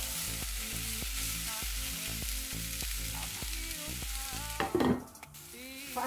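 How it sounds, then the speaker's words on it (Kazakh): Minced meat with onion fries over medium heat in a pan, a steady crackling sizzle with regular scraping stirs of a utensil against the pan, and a louder clatter near the end. "Пияз салып, орташа отта фарш піскенше 8-10 минут тағда бұқтырып қуырамыз."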